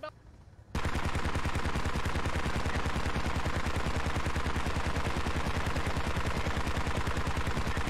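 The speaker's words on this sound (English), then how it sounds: "The BTR just threw an entire belt's worth of ammo into the Dishka." Sustained heavy machine gun fire from a BTR armored vehicle in the video game Squad, emptying a full ammo belt in one long, rapid, unbroken burst that starts abruptly after a brief quiet moment and stays loud and close.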